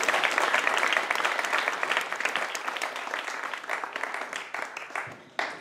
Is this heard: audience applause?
yes